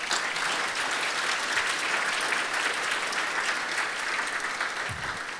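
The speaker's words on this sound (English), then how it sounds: "Let's get a clap there." A civic audience at a city's State of the City address breaks into sustained applause, a steady wash of many hands clapping that holds evenly throughout and fades slightly at the end.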